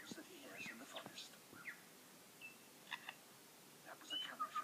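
A songbird in a forest mimicking a camera shutter, giving a few short, faint clicking and whirring bursts among soft chirps in a quiet, hissy setting.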